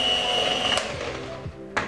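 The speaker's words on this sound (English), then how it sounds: "I'm going to continue whisking this with 1 egg and a spoonful of this mixture" Sponge cake batter being whisked with one egg and a spoonful of mixture, heard as a steady, droning whir that runs throughout with a couple of brief sharp clicks.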